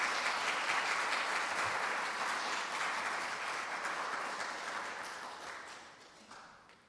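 A church congregation claps warmly for a preacher arriving for a Wednesday sermon: dense, steady applause from many hands that fills the room, then thins and fades toward the end.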